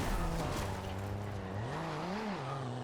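Nissan IDx concept car drifting in the racing game Forza with no drift suspension or upgrades, its engine droning steadily with rising and falling pitch as tires squeal continuously through the slide, loud and close with no talk.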